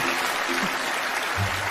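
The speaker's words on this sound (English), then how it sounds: "give her a round of applause?" Steady applause from a crowd at a comedy magic act on Penn and Teller Fool Us, a dense wash of clapping filling the whole moment without pause.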